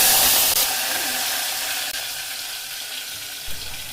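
Urad dal and curry leaves fry in a pan for nookala upma, making a loud, dense, hissing sizzle that slowly eases off toward the end.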